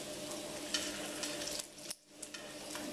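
Salmon fillets fry in hot butter in a pan, giving a steady, close hiss and crackle with small pops and a brief dip as they are handled.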